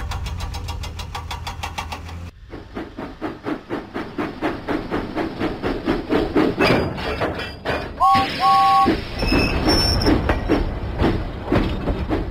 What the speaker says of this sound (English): James pumped his pistons and puffed out of the docks.